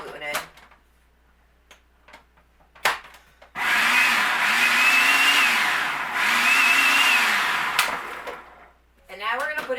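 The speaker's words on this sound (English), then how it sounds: "We're going to put all the ingredients into our food processor. I'm going to mix this up real quick" A food processor whirs loudly through vegan pepperoni ingredients in two sustained pulses lasting several seconds, with a pitch that wavers slightly as the load shifts, framed by short clatters and handling noise before and after.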